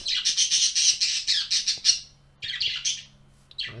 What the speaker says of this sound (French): Ah, désolé pour les oiseaux